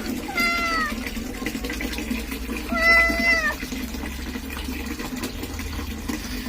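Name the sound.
cat meowing during a bath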